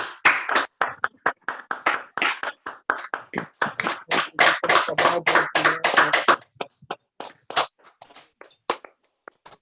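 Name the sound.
participants clapping on an online call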